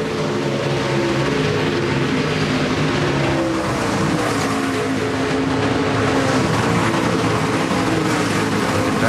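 NASCAR Nationwide Series race cars roar around the Road America road course after a restart, a dense, continuous wall of loud engine noise with overlapping cars at steady intensity and no talk.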